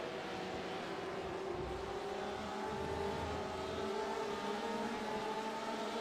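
A string of race cars driving through turn 1 of a track at a GP Performance Series race, a steady, continuous engine drone with layered tones holding level throughout, heard from a distance with no talking.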